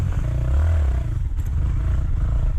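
A 125cc enduro motorcycle revving hard with the throttle held wide open, a loud, close engine note with rattling, rising briefly and then settling over a couple of seconds.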